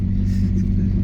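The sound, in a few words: two-wheel drive truck driving in beach sand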